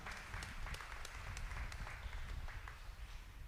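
A church congregation claps its hands in applause, a dense run of crisp overlapping claps at moderate distance that holds steady and then thins slightly toward the end.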